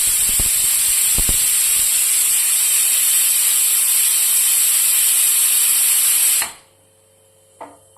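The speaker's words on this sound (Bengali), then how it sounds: "তো একটা সিটি পড়ে গেছে, আমি গ্যাসটা অফ করে দিলাম" A pressure cooker whistles loudly while jackfruit boils on a gas stove, a steady shrill steam hiss lasting several seconds before cutting off abruptly, followed by a quiet room with a faint click.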